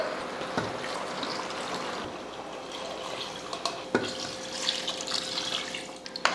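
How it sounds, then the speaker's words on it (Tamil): A steady stream of water pours and splashes into a pot, running continuously with a few clinks near the end. "இப்போ தண்ணி சேர்த்துடலாம்"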